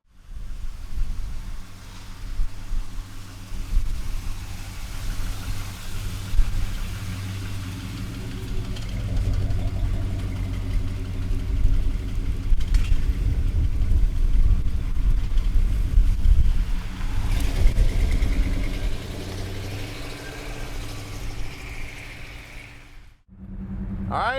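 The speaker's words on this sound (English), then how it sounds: "let's take our 67 El Camino for a ride. Small block under the hood" A 1967 Chevrolet El Camino's small-block V8 engine rumbles and revs while driving, deep and throaty, with wind buffeting the microphone, ending in a sudden cut.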